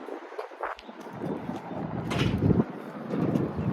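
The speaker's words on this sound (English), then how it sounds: "Ooh, it's windy." Gusty wind buffets the microphone with a steady low rumble, swelling louder toward the middle and staying rough throughout.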